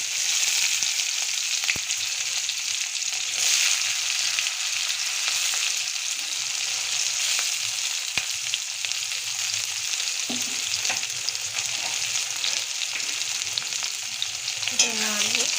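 Chopped onion and bay leaf frying in hot oil for a Bengali-style chickpea chana masala, giving a steady, fairly loud sizzle throughout, with a few soft stirring scrapes near the end and no voices.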